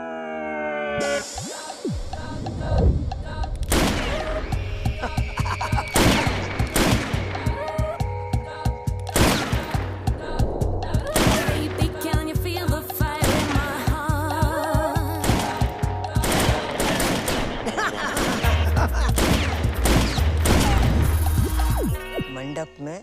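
Gunfire from guns including an AK-47 in a Hindi web series scene, sharp shots cracking out irregularly and one after another, loud and close over music and voices.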